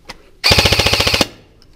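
ForceCore FC-122 airsoft replica firing a short full-auto burst, a rapid even string of about a dozen sharp mechanical shots lasting under a second, loud and close, preceded by a single faint shot.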